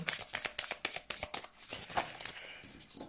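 Tarot cards shuffled and slid against each other in a rapid, steady series of close, crisp riffling snaps and flutters with no talking.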